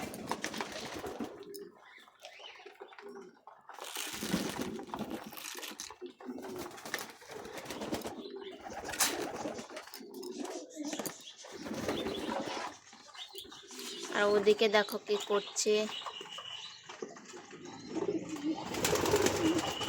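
Domestic pigeons coo close by in repeated soft, throaty rolls with short pauses between, while a person speaks briefly over the birds.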